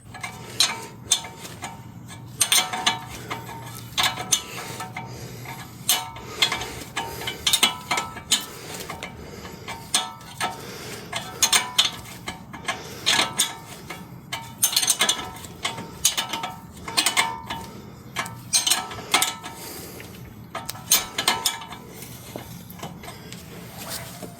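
Ratchet clicking in irregular bursts while tightening suspension parts under an auction-bought Chevrolet Suburban during a suspension overhaul, with sharp close ratcheting clicks and brief pauses throughout, no talk.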